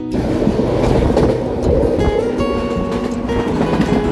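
The Rangpur Express intercity train runs along the rails with a loud, steady rumble and continuous rattling of the carriages.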